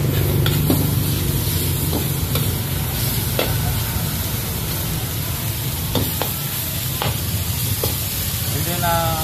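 A chop suey stir-fry sizzles loudly and close in a pan after wine is added, a dense steady hiss with scattered sharp crackles and utensil scrapes, and brief talk near the start.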